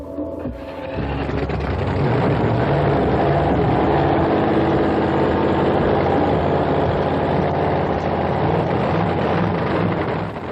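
A nitro-fueled funny car drag racing engine fires up with a sudden loud roar after a brief quiet start, then holds a dense, thunderous, steady blast close by for about ten seconds.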